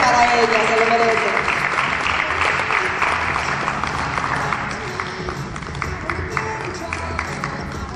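Loud, sustained applause from an audience at a pageant final after a Miss Congeniality winner is named, steady clapping with crowd noise and voices mixed in throughout.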